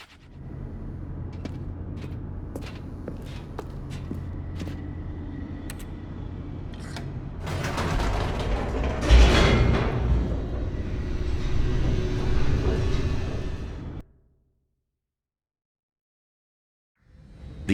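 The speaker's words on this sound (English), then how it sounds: "The elevator raced downward, plummeting towards an unknown fate." A descending elevator in The Stanley Parable gives off a steady mechanical hum with faint clicks, then a louder rushing roar that builds and sustains before cutting off abruptly into silence.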